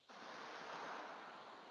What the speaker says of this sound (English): I've added some waves.